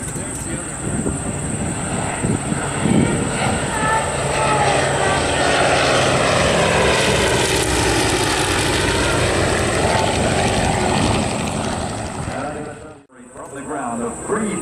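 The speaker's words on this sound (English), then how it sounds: "One closest to us is the F4U with Captain Snodgrass aboard." A Vought F4U Corsair propeller fighter drones past at an airshow, its piston engine roar swelling and holding loud for several seconds before a brief dropout, with an announcer talking over it.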